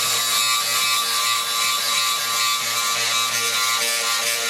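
EMG 12 end mill grinder sharpening a high speed steel cutter, a steady whirring grind with a fast, even mechanical pulsing, close and constant throughout.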